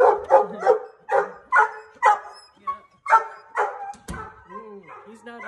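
A dog barks close by in a rapid run of sharp woofs and yips, then breaks off into softer whines, with a person talking in between.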